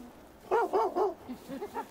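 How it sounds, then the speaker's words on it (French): A truffle-hunting dog barks three times in quick succession, then gives a few softer yips and whimpers, close by and clear with no talking over it. "avec son chien Pirlo"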